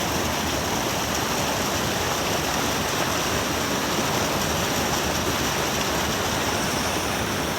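A river stream flowing steadily nearby, a loud, unbroken wash of rushing water with no variation and no voices.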